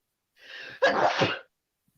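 One close, forceful sneeze: a short breathy intake followed by a sharp explosive burst, then silence.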